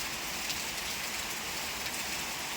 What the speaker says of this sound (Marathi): या पावसाला ना खूप जोर आला खूप म्हणजे खूप जोर आला